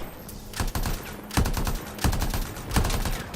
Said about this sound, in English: That's my assault rifle, by the way.